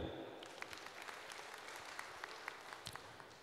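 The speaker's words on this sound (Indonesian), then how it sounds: "Mohon tepuk tangannya." Faint, sustained clapping from an audience at a regional development planning meeting in Central Java, a distant even patter with a few sharper hand claps standing out.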